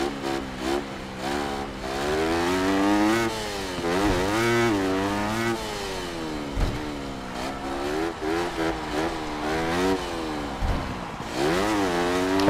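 Motorcycle engine in the video game Monster Energy Supercross 6, a supercross dirt bike revving loudly and continuously with rising and falling pitch as it shifts and accelerates around the track, no talking.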